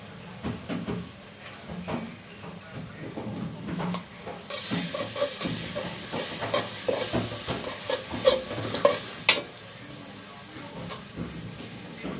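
Onions sizzling in mustard oil in a pot on the stove, a steady close frying hiss that grows louder midway, with occasional stirring scrapes and clanks and no talking.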